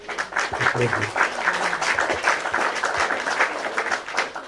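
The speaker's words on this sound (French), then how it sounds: "Je vais acclamer" Applause and cheering from a congregation during a live church broadcast, a steady wash of clapping that lasts throughout while a voice speaks over it.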